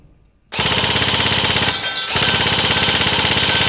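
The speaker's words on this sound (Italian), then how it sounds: "la raffica, e non perde un colpo perché il caricatore elettronico continua a spingere i colpi verso l'alto" A G&G CM16 LMG airsoft gun fires a long full-auto burst after a brief quiet start, a loud, close, rapid mechanical rattle with a short dip partway through.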